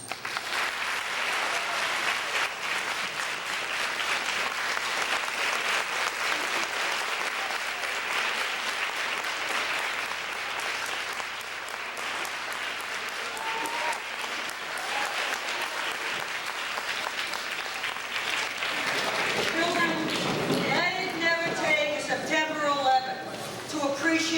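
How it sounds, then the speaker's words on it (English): Sustained audience applause at a school assembly standing ovation for veterans, a steady loud wash of clapping from a large crowd that thins toward the end as voices and cheers rise. "Please let us give a rounding, standing ovation for our veterans."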